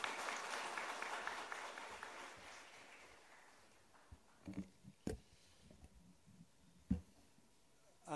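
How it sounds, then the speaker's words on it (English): Audience applause welcoming a speaker at the Mumbai Fintech Festival 2018, a broad wash of clapping that swells early and fades after about three seconds, leaving a quiet hall with a few scattered sharp knocks. "Welcome with a huge round of applause"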